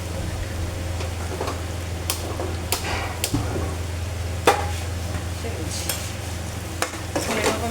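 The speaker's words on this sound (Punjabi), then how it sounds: "ਮਿਕਸ ਕਰ ਦੇਣਾ ਚੰਗੀ ਤਰ੍ਹਾਂ ਥੋੜਾ ਜਿਹਾ ਸੇਕ ਲਵਾ ਲੈਨੇ ਆ" A chilli and turmeric masala mix being stirred in a pan over heat, with a low continuous sizzle and irregular scraping taps of the spoon against the metal, close up and without speech.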